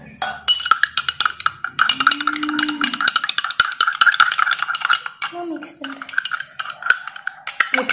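A spoon clinks and scrapes steadily around a bowl of baking soda, shampoo and water slime mixture in quick, repetitive strokes, close up, with brief low voices murmuring in the background.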